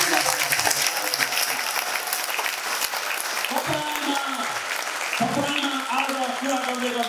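Clapping from a church congregation at a Nepali prophecy and deliverance service fills the whole stretch as dense, steady applause, with voices and shouts rising through it.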